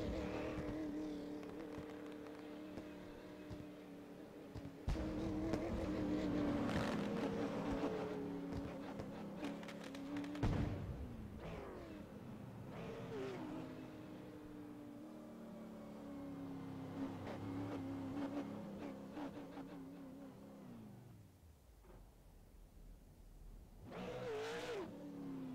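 Race car engine from a sim racing game at New Smyrna Speedway, droning and revving through a victory lap with shifting pitch, occasional surges and a drop near the end.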